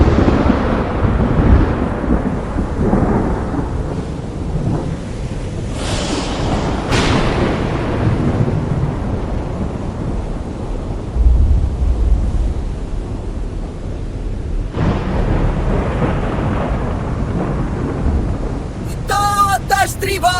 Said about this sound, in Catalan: Aguanteu, que aviat passarà la tempesta!